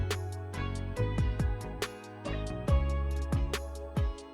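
A beat with synth and guitar playing chords over rhythmic drums, repeated plucked strikes and steady kicks in a driving pattern, full and close with no talking.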